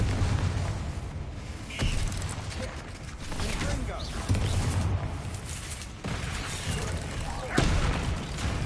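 Confringo fire spell blasts in the Hogwarts Legacy video game: several sharp booming impacts spaced a couple of seconds apart over a busy, roaring combat background, with game voices around them.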